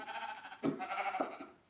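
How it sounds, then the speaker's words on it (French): Short nasal sheep bleats from a blocky Minecraft-style video game, two or three quick calls close together over faint background sound, no talking. "Bon, en attendant, je peux tuer les moutons."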